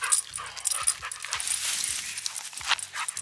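A dog pants rapidly and steadily at close range, with soft whimpers mixed into the breathing and a few faint thumps in the background.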